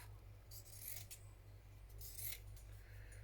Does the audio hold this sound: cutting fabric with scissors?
yes